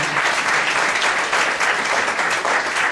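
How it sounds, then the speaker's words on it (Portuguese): A church congregation applauds during a sermon, loud sustained clapping from many people filling the hall, dense and even from start to finish without speech over it. "Pode aplaudir, se você deseja aplaudir."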